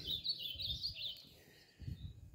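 A red-cowled cardinal sings from inside a cage, giving a run of high, bright chirping phrases that fade off, with low thumps and handling noise underneath.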